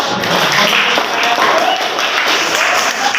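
Audience in an Indonesian classroom applauds a group presentation with a loud, dense, steady burst of clapping that lasts a few seconds without pause.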